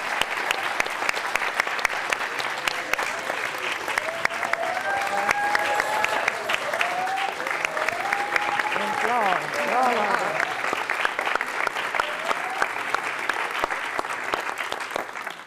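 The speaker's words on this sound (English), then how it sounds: "let's give them another round of applause" A sustained round of audience applause at the close of Late Night with the Old Masters 2021, dense and steady clapping for the full stretch, with a few voices rising faintly underneath.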